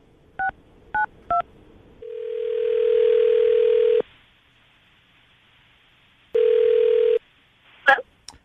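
Three short beeps open, then a long steady telephone tone, silence, a second matching tone and a brief burst of dialing noise near the end, all thin and close, as if heard down a telephone line during a radio prank call.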